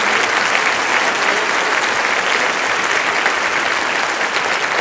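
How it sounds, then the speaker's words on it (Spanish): An audience applauds schoolchildren being honoured at a primary school awards event, with dense, continuous clapping that stays loud and steady throughout. "Yo quiero brindarle un aplauso a todos estos pequeños"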